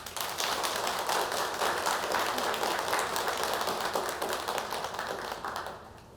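Workers at a North Korean workplace applaud together, a dense, steady round of clapping that holds evenly for about six seconds before easing slightly at the end, with no voices over it.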